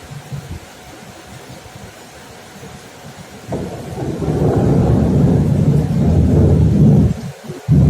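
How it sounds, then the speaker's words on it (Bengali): A deep rumble of thunder swells midway and rolls on for several seconds over steady background rain, then fades abruptly. "বাজ পড়ছে ভালো।"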